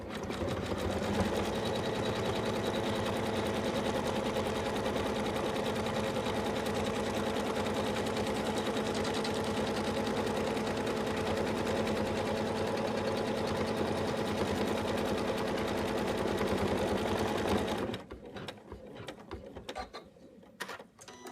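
A home embroidery machine stitches the hat placement line for an in-the-hoop Santa bib, a steady rapid mechanical whirring and needle clatter that runs continuously, then stops and leaves quieter sparse clicks and handling noise.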